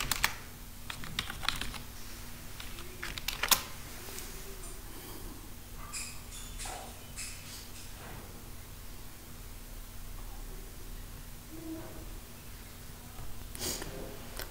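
Quiet clicking of keys on a computer keyboard, bursts of typing scattered through the stretch over a low steady hum, with no talking.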